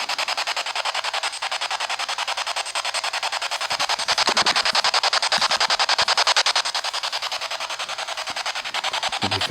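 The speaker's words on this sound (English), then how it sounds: "Spirit box." A spirit box sweeping through radio stations in the Mary Queen of Scots House in Jedburgh, giving steady, rapid rhythmic clicks over hissing static, loud and close, with brief bursts of broken radio fragments.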